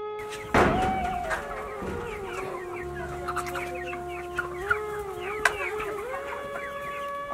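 Chickens on a small rural poultry farm in Nepal cluck and call repeatedly, close and clear, with a rooster's crow rising among them over a steady low background hum. No one speaks.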